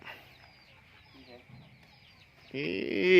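Chickens cluck in short, scattered bursts at a farm, soft at first and then swelling into a louder, busier burst of clucking near the end.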